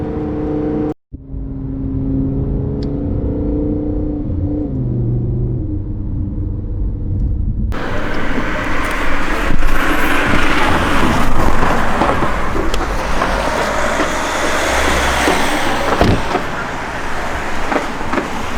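Mercedes-AMG GT-R engine on a downshift, a loud low rumble that swells into a throaty rev after a quieter stretch of cabin tone, with road noise underneath.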